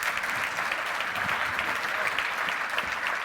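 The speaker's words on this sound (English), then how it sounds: "A huge round of applause, please, for CEO Virgin Atlantic, Shai Weiss." An audience at an industry event applauds Virgin Atlantic's CEO with dense, sustained clapping from many hands, steady and fairly loud throughout.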